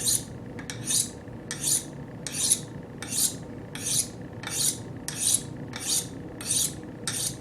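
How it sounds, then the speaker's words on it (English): A kitchen knife is drawn along a sharpening steel in about ten rasping metal strokes, each a short scraping swipe spaced roughly every three quarters of a second, close and clear with no talking. "just take your knife, put it on your sharpening steel at about 12 degrees or so, and then just all the way to the end"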